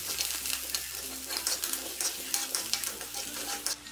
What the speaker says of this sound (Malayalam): പിന്നെ 2 തണ്ട് കറിവേപ്പിലയും കൂടി ഇട്ട് ഇത് ഇളക്കി കൊടുക്കണം.